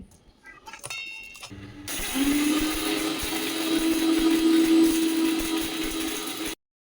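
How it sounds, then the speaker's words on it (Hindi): After a few clicks and rattles, a kitchen mixer grinder grinding roasted spices whirs loudly and steadily for several seconds, its motor droning, then cuts off abruptly. "फिर इसे मिक्सर के जार में ट्रांसफ़र करके पीस लेंगे।"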